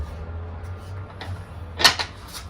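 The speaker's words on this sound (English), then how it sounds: "So you pull out the drawer like that" A small drawer pulled out of a compact, pack-away camper table, giving a short wooden slide and a sharp knock near the end, close and fairly loud over a low hum.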